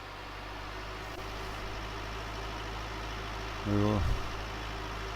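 Tractor engine in Farming Simulator 19 drones steadily at a low, even hum throughout, swelling briefly into a louder rev near the end, with a voice talking over it.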